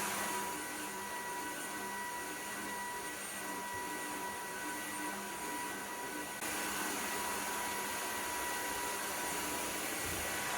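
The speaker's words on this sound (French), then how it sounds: "si vous craignez vraiment pour vos parquets, vous passez en mode aspiration" Dreame H12 Dual wet-dry vacuum cleaner running in vacuum mode over laminate flooring, a steady close hiss and whine that holds constant, stepping up slightly in intensity partway through.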